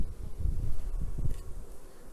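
A queenless honeybee colony hums inside its hive in February, a low uneven buzzing drone that swells and fades over a couple of seconds, close by with some rustle and no voices.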